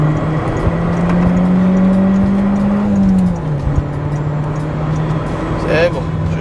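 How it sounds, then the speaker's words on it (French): A Citroën DS pulls onto the motorway, its engine droning loudly from inside the cabin with a rising whir that settles into a steady cruising hum, a brief click near the end. "je me rentre sur l'autoroute"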